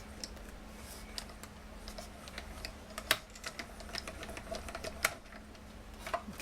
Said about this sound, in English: run this through my little mini die cutter